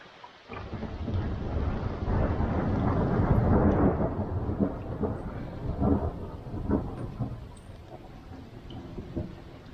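A long, deep roll of thunder at a campground in Coleman State Park, New Hampshire, swells to a loud peak and then slowly rumbles away, with faint rain in the background.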